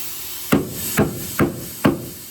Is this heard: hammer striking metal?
yes